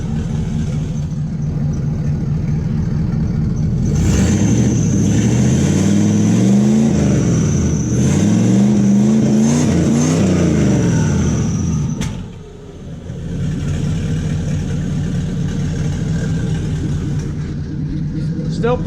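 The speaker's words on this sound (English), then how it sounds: "Still pretty loud when you rev it up." A turbocharged LS-swapped Camaro, freshly started, revs loudly nearby in a small space. Its deep rumble swells through several rising and falling revs and dips briefly near the end before settling back to idle.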